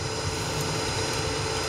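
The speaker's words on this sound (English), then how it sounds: "I can tell when we're landing that we came in way too high." Steady, loud cabin roar of a United Express CRJ-200 regional jet landing at Dallas Love Field, a continuous broadband engine and airflow drone with no voices.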